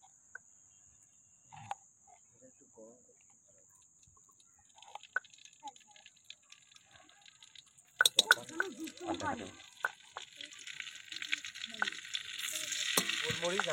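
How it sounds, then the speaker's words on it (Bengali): Ghee and oil heat in a pan for prawn pepper pulao, then peppercorns and onion drop in, and a near, loud sizzle erupts midway and keeps building after quiet, scattered kitchen sounds. "গোলমরিচ আর পেঁয়াজটা সুন্দর করে ভালো করে ভেজে নিচ্ছি"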